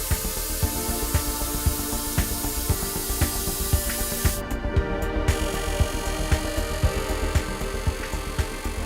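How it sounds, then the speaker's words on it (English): In a forged wheel factory, a bubble jet spray system applies a solvent coating to the wheel's design face, producing a steady, loud hissing spray with regular rhythmic pulses throughout, without speech. "a bubble jet spray system is used to apply a second coating of solvent onto the wheel design face"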